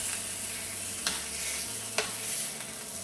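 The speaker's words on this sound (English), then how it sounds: "So you can take your tongs and move the steak around." A peppercorn-crusted New York strip steak sears in a hot pan with a steady close sizzle, while tongs shift it around, giving two brief scraping clicks partway through.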